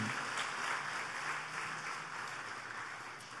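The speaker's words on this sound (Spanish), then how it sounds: "¿Quién quiere dar un aplauso por eso?" Steady applause from a crowd fills the whole stretch, even and sustained, gradually tapering slightly toward the end.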